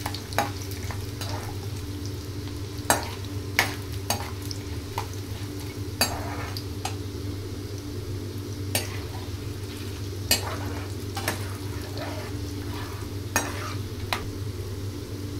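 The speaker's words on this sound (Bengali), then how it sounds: "ভেজে নিই বড়িটা, বড়িটা ভেজে এর মধ্যে দিয়ে দেবো।" Bori lentil dumplings fry in a pan with a soft continuous sizzle, broken by sharp clicks and scrapes of a spatula or spoon against the metal at irregular intervals, close and fairly quiet.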